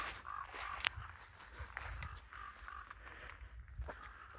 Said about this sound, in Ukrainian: Два такі круки